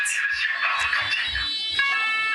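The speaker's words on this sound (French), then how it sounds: "Une alarme incendie retentit." A shrill, steady electronic fire alarm rings continuously in a television news studio, its piercing tone filling the room, with faint low thumps underneath.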